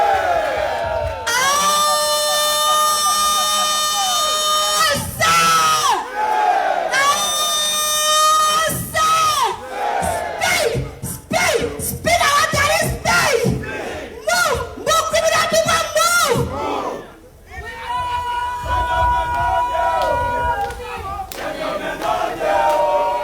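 A large crowd at an event for opposition leader Joseph Boakai cheers, whoops and shouts loudly and continuously, with bursts of raised voices rising and falling over a dense, sustained roar.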